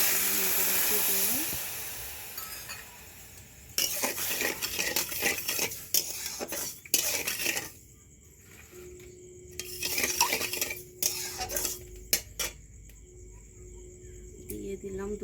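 Sugar and water going into a cooking pot for sugar syrup in a village kitchen: soft pouring hiss and metallic clinks of a spoon and pot in intermittent bursts, with a voice talking nearby.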